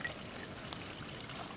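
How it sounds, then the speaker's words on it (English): Water poured into a bush pot holding bags of food, a steady close splashing trickle lasting throughout with a small clink partway. "we're going to add about a half a Bushpot of water"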